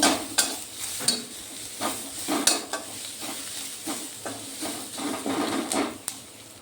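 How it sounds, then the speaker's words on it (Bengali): Onions and garlic frying in a pan for a Bengali pabda fish poppy-seed curry, with a steady oily sizzle broken by scraping stirs from a spatula, close and moderately loud, with no talking. "পেঁয়াজগুলোকে আমি ভালো করে ভেজে নেব।"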